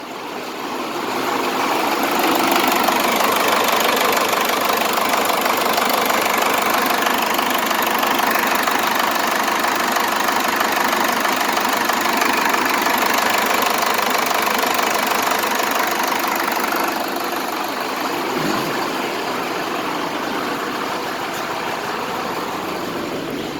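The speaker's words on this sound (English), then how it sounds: "we'll look at the diesel engine here" A Cummins diesel engine fitted in a Ford F150 idles steadily and loudly up close, its rough knocking drone holding level for most of the stretch before easing slightly near the end, with no voices.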